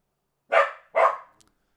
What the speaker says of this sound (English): Stop that barking.